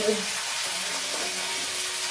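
Spices frying in a pan for an egg curry, a steady close broadband sizzle running throughout at an even level with no talk.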